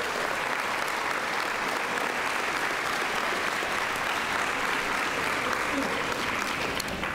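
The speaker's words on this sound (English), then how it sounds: "Let's give all of our special award winners a round of applause" Audience applause for special award winners at a junior science fair awards ceremony, loud sustained clapping from a large crowd that stays steady for the whole stretch.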